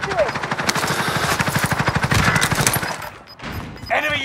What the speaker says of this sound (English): We're taking fire. I'm taking fire.